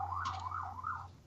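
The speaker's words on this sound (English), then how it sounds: "I like the sirens in the back." A distant wailing siren in a New York street, faint and rising and falling in a slow sweep behind a quiet room, with a brief higher chirp near the start.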